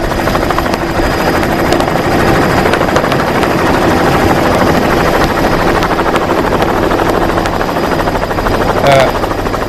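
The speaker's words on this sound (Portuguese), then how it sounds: "Esses são os helicópteros" A loud helicopter drones steadily, its rotor thumping in a constant rapid rhythm throughout.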